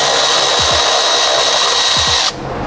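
A 10mm socket on a power driver spins out valve cover bolts on a 2008 Mitsubishi Lancer GTS, a loud continuous whir with brief pitch dips before cutting off near the end.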